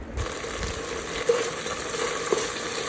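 Coconut rice masala being stirred and fried in a pan, a continuous close sizzle with a few soft scrapes from the spoon and no talk.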